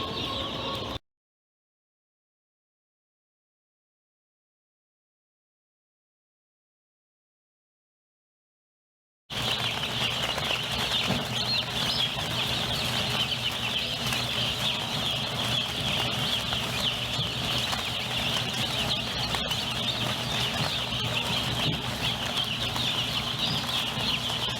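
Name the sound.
baby chicks peeping in a brooder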